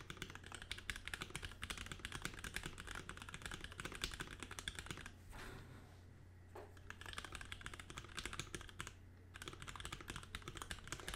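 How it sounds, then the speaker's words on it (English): Keys clatter in a fast, continuous stream of close, crisp clicks on a keyboard built in a StrataKb Minivan acrylic case, with a short lull partway through before the rapid typing resumes. "Let's do a quick typing test."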